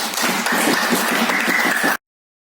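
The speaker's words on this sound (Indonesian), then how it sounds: "Tepuk tangan untuk kita semua." A junior high school class in an Indonesian-language lesson gives a burst of applause, steady dense clapping from many hands for about two seconds before it cuts off abruptly.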